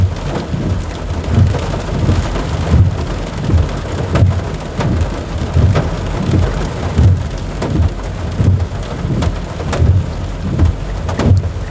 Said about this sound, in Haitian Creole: la pluie a tombé